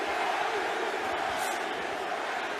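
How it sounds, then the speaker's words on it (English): Boxing arena crowd during a heavyweight bout between Andy Ruiz and Luis Ortiz, a steady dense roar of cheering fans filling the whole stretch with no pause. "This is a very pro-Ruiz crowd."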